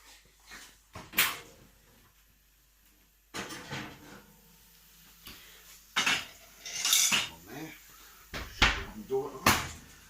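A tray of roasting potatoes with melting butter comes out of the oven with scattered metallic clatters, clanks and knocks of tray and oven door, separated by quiet gaps.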